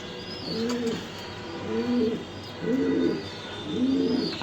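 Pigeons in a home loft coo nearby in four evenly spaced, rolling phrases, each a low throaty burble separated by short pauses over faint background hiss.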